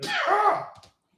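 A single sharp sneeze, loud and close, ending abruptly in silence.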